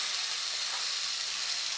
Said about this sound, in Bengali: এই যে কুমড়োগুলো দিয়ে ভালো করে ভেজে নেব।